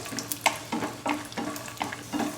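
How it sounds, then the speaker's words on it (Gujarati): Peanuts fry until golden brown in hot oil with a steady sizzle, while a spoon stirs in a regular rhythm of soft scrapes and clicks. "સિંગદાણાને આપણે તળી લેવાના છે"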